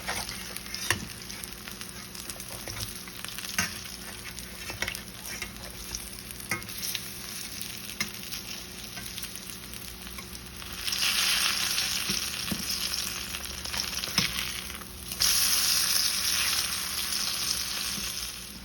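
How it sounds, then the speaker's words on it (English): Steady crackling sizzle of pupusas frying in hot oil, continuous and close, growing a bit louder and brighter partway through. "our pupusas are almost done frying"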